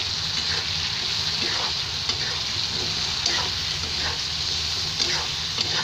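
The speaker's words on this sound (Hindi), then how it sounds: "और हम इसे मिक्स करते हैं।" Eggplant, potato and black grams with turmeric and salt sizzle steadily in a pan while being stirred, the soft scraping strokes recurring close over the constant frying hiss.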